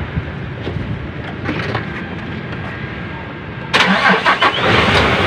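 An Isuzu 6WG1 diesel engine in a tractor head cranks and catches, a steady churning starter sound that jumps into a louder running idle near the end, close and without talk.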